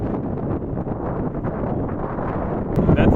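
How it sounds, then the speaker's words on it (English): Strong wind buffets the microphone in a steady, loud rush during a Onewheel group ride in the Algarve, with a sharp rise in noise at the very end. "the atmosphere was building up super fast and so did the wind"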